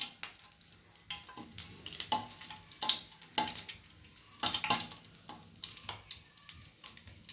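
Whole spices, cinnamon bark and cloves, crackling and spitting in hot oil for a chenna masala base, with faint sizzling broken by sharp bursts and occasional stirring clatter, no voices.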